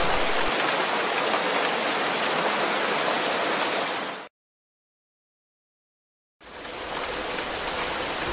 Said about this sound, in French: C'est curieux cette pluie.